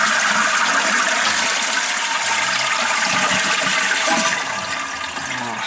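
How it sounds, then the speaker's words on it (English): A household toilet flushes up close, a loud rushing gush of water that holds steady for several seconds before easing slightly toward the end. "Flush it and see if it."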